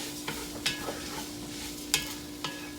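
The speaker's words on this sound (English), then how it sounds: "The sauteing of the rice is an important step." Rice sautéing in a pan for jambalaya, cooking over medium heat: a soft, continuous sizzle broken by a few quick scraping stirs, close and fairly quiet.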